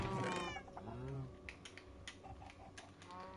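A Minecraft cat meows in the video game, with a few clear meows early on followed by quieter mechanical game clicks and rustles.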